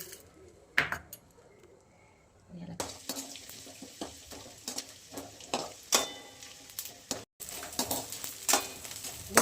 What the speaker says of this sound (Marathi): डिंक आपण एक वाटी घेतलेला आहे हे पण थोडं थोडा करून तळून घेऊयात आपण